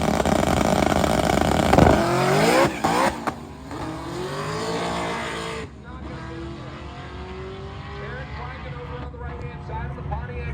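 A Pontiac drag racing car makes a pass at Cordova Dragway, its engine roaring hard at launch and then falling away as it accelerates off into the distance, with a commentator talking over it.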